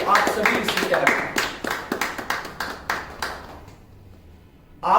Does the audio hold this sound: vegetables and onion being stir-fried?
no